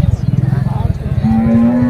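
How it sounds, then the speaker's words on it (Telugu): An HF cow moos at a weekly livestock market in Punganur, giving a deep, loud, pulsing low call that rises into a sustained drawn-out tone near the microphone. "ఈ హెచ్ఎఫ్ ఆవు మహేష్ అన్నోళ్ళది ఇది"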